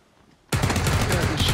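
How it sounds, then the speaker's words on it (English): Gunfire in the video game PUBG erupts abruptly after a quiet moment, a loud sustained burst of rapid automatic shots heard up close. "Yeah, he's shooting at me."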